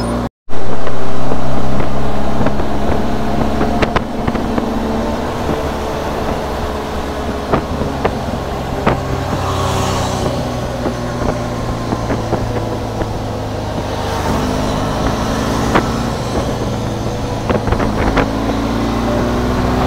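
A motorcycle ride on a road toward Pali gives a steady, close engine drone with strong rushing wind over the microphone and brief passing noises, lasting the whole stretch without talking.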